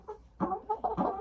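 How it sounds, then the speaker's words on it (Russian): Huge broiler chickens give a few quick, close clucks in short bursts over about a second, with no voices. "Огромные куры. Вот такие вот бройлеры."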